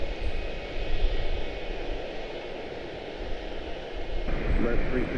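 An American Airlines A320-214 jet moving at Charlotte Douglas gives a steady engine rumble with a thin hiss, swelling slightly toward the end, while a faint radio-like tone runs beneath.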